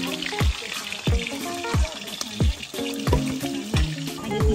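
Food stir-frying (tumis) in a pan, with continuous oily sizzling broken by regular, fairly loud scraping and clanking strokes roughly every half second to second as the spatula tosses the ingredients.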